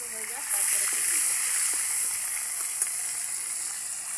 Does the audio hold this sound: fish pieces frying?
yes